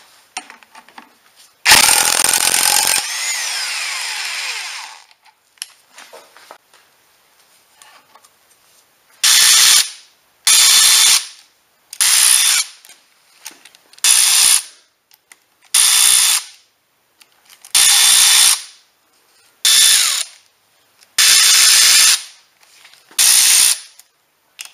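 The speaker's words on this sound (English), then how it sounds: "Now we're gonna remove the crankshaft pulley and then this cover" Power tools removing the crankshaft pulley from a Ford Fusion engine: one long burst, then a steady run of about eight loud, evenly spaced short bursts, close up, with no talking.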